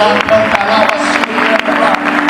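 A church congregation applauds during an evening evangelical service, a dense wash of clapping with crowd noise and sustained music tones underneath, continuous and close for the whole stretch.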